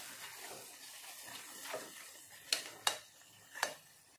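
A utensil scrapes and knocks against a pan while red chili powder is stirred into pav bhaji masala, with a few sharp clinks standing out over a soft background hiss.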